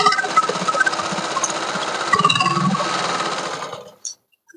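A sewing machine stitches a frock in a steady, close whirring run for about four seconds, with a brief rise partway through, then it stops abruptly and a small click follows.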